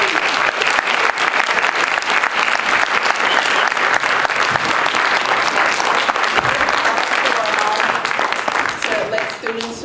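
An audience at a Black History Makers forum applauds loudly and steadily for about ten seconds, a dense, sustained wash of clapping that thins slightly at the end, with a voice faintly audible beneath.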